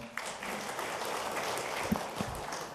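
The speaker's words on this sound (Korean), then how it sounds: "박수 부탁드리겠습니다" Audience at a National Assembly policy forum claps to welcome a speaker, a moderate, fairly quiet patter of hands with a couple of louder single claps standing out near the end.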